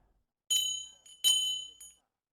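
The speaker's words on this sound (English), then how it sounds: "Then a bell began to ring." A small bright bell rings twice in clear strikes, each tone ringing out and fading, with a softer short echo after each, heard alone against silence.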